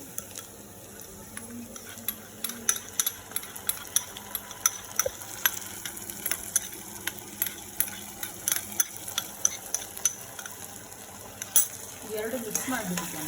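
Vegetable manchurian balls fry in a pan with soy and red chilli sauce, a steady close sizzle broken by frequent sharp scrapes and taps of a spoon stirring, with no talk.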